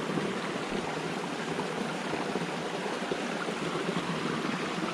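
A creek flowing along a muddy hiking trail on a long loop trek, a steady broadband rush of water that stays close and even throughout with no voices.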